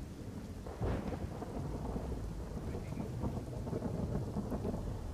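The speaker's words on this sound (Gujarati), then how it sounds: "હવામાન વિભાગની આગાહી વચ્ચે મુશળધાર વરસાદની એન્ટ્રી જોવા મળી." Heavy monsoon downpour with thunder, a dense continuous roar of rain with a deep rumble of thunder swelling early on and rolling on beneath the steady rainfall.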